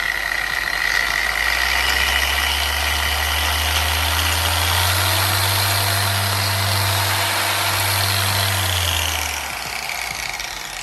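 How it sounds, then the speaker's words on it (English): A Shinemate 5/15 dual action polisher runs at speed 6 with a smooth, fairly quiet mid-pitched motor whir and steady vibration, rising in pitch partway through and then easing off near the end. "let me let you listen to it. I'm gonna put it from speed 1 to speed 6"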